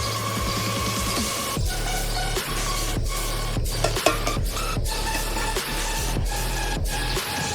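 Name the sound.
stirring crushed Maggi noodles into rice in a cooker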